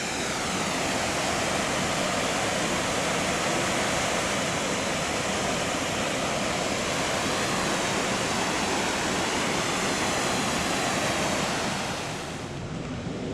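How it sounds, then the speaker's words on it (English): Loud, steady roar of river rapids rushing over rocks on the Potomac near Great Falls, a dense continuous wash of water that holds unbroken for the whole stretch before easing slightly at the very end. "And more river rapids you don't want to fall into."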